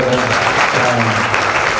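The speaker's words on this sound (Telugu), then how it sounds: "గట్టిగా చప్పట్లు కొట్టారు" Loud, dense clapping from a large church prayer-meeting crowd gathered from many districts at Medchal, sustained throughout with a voice faintly audible beneath it.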